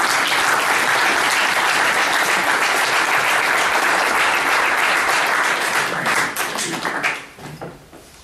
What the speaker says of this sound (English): I'd like us to have a round of applause to our women